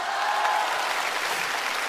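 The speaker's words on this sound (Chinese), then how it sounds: "鼓掌" A theater audience at a crosstalk comedy performance bursts into dense, even applause, a steady wash of many clapping hands heard on its own for a brief moment.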